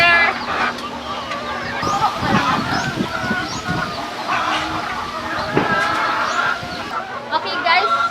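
Backyard chickens in a poultry house in the Philippines cluck and squawk repeatedly, a busy close-up flock with some honking calls, and a person talks among them.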